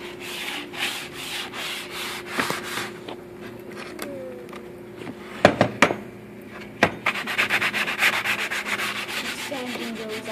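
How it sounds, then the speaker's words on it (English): Steady rasping strokes of sandpaper on wood, rhythmic back-and-forth scrubbing up close, broken by a few sharp knocks before the sanding resumes. "Sanding goes off."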